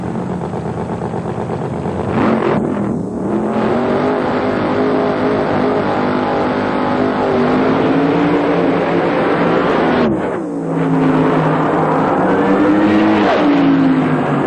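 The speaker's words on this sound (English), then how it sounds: "Duncan in the far lane, Manzo in the near lane, the Kendall car. Round number 1, Federal Mogul Funny Car." Federal Mogul Funny Car drag race, first round at the 1997 NHRA Pennzoil Nationals, with two nitro Funny Cars roaring loud and continuous down the strip, engine pitch climbing and dipping between shifts, a brief drop near ten seconds, then thundering on.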